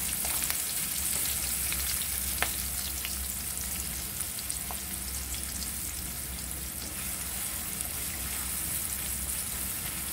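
Chopped onion and green chilies frying in a pan on the stove, a steady close sizzle with faint crackles and occasional stirring scrapes throughout, no talking.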